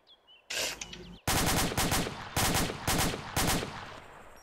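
Rapid gunfire from a sniper team in a video game: one burst, then five loud, close, evenly spaced volleys of shots with brief gaps between them, and no talk.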